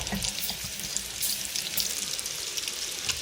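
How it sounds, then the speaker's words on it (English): Chicken karaage deep frying in a wok of hot oil, a loud, steady, close-up hiss of vigorous bubbling and crackle running throughout with no voices. "as long as there's sort of vigorous bubbling going on,"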